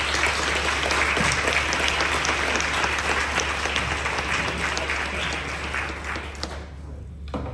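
Sustained applause from a seated audience welcoming a speaker to the lectern, dense steady clapping that fades out near the end.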